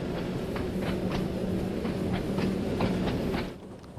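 A small Isle of Wight Island Line train runs through Ryde in Train Sim World 2, giving a steady loud rumble with rhythmic clickety-clack wheel beats over rail joints that fades slightly at the end.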